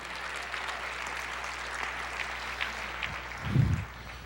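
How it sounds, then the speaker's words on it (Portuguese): Congregation in a church service applauding, a soft, steady patter of clapping spread through the room, swelling briefly near the end; no one speaks over it. "Aplauda o Senhor"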